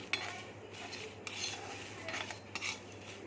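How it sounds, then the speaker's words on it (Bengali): Dry chilli, coriander and cumin dry-roasted without oil in a dry pan over low heat, with a few scraping, rattling stirs of the spices against the metal, close and fairly quiet, no voices. "শুকনো লঙ্কা ধনে জিরে কোনো তেল না দিয়ে আমি শুকনো খোলাতে আমি ভেজে নিচ্ছি"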